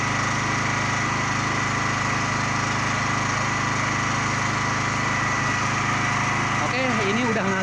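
A Honda generator engine runs steadily and loudly up close, a constant droning hum that holds for the whole stretch, with a faint tonal whine near the end.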